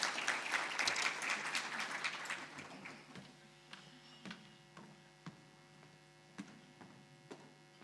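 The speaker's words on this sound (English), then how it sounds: "I think he deserves another round of applause, ladies and gentlemen" An audience applauds at a university faculty research day, a burst of clapping that fades within a few seconds into scattered isolated claps over a steady electrical hum.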